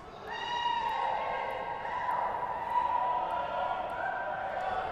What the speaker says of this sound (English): Crowd making a lot of noise now.